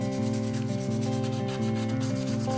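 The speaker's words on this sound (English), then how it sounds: "I'm just hitting this again with another round of 220 grit sandpaper" A 3D printed helmet being sanded with 220 grit sandpaper, a steady rhythmic scraping rub that repeats in even strokes, close and continuous throughout with no talking.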